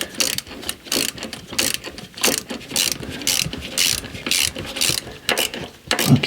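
A ratchet wrench clicks in rapid bursts as it tightens a bolt on a Ford Mustang engine, the pawl chattering loudly and close, with short pauses between strokes.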